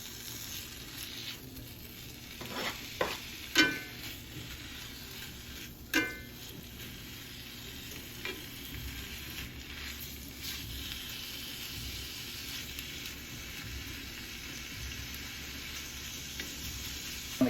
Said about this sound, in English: let's get our meat in this frying pan. Get it warmed up a little bit.